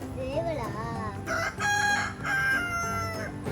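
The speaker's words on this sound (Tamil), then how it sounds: "அது சேவல்" A rooster crows outdoors along a road trip to the hill station of Yercaud, its rising, wavering call coming through a busy mix of background noise and faint voices.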